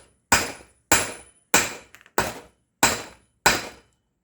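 Six sharp, loud hammer blows strike a door lock being knocked apart outdoors on a worktable, evenly spaced with a faint small tap between two of them and no talking.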